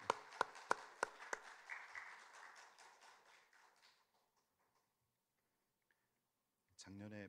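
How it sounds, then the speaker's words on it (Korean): A church congregation applauding after a Sunday service: a few sharp claps lead into a short burst of clapping that fades out over several seconds. A quiet gap follows, then a voice speaks at the end. "박수로 하나님께 영광 올려드립니다"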